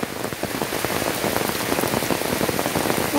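Heavy rain pours down on a quiet rural village, a loud, close, dense patter of drops hitting surfaces in a continuous rush with no voices.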